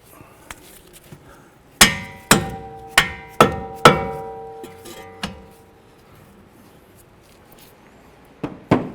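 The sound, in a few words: hammering bolts loose on a Toyota Camry hub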